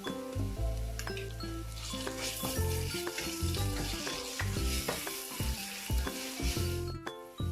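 Garlic-ginger paste frying with onions in a hot pan with a steady loud sizzle, broken up by repeated scraping and clinking as a spoon stirs it, with no talking.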